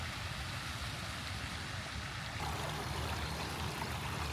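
Steady flowing water in Kuala Lumpur rushes continuously, a dense even wash of sound that swells slightly louder partway through.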